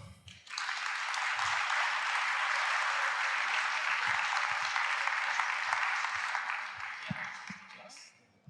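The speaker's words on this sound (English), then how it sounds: "Please give a big round of applause for Björn Kuse." A crowd breaks into sustained, loud applause lasting several seconds, then it fades out, with a voice briefly audible at the start and end.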